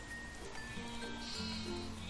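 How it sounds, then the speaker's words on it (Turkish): Sheep bleating in the Mini World survival game, a couple of faint, thin bleats over a quiet background hum. "İleride koyunlar var abi."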